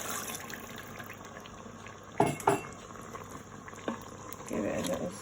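Metal utensil clanks against the pot while stirring chicken curry in an Instant Pot: a couple of sharp knocks in the middle, one lighter tap later, over a quiet bubbling background.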